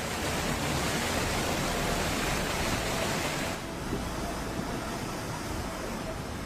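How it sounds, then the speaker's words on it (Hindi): Roaring floodwater surging through Jammu and Kashmir during torrential rain, a continuous, loud, broadband rush of churning water without break, briefly dropping slightly in level midway. "लहरों का शोर इतना ज्यादा है जो खौफ पैदा कर रहा है।"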